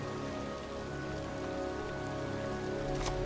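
Steady rain pours over a cemetery in the video game Heavy Rain, a dense, even hiss of drops on the ground that carries on unbroken throughout at close range.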